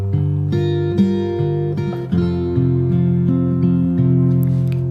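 Fingerstyle acoustic guitar plays one bar of a song, moving through barred chords with a low bass note: sustained plucked notes and a chord change midway, close and steady, with no voices.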